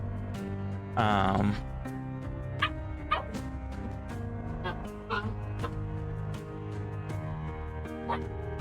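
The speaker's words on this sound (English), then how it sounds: "Your dog Riley is looking around confused at the little puppy sounds" Small puppies playing, with repeated high yips, whimpers and short barks scattered throughout, one louder whining cry early on, over a steady background hum and music-like tones.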